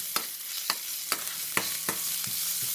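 Crushed ginger, garlic, green chili, cumin and pepper sauté in hot oil for a drumstick leaves rasam, a steady close sizzle broken by about six regular spatula scrapes roughly every half second.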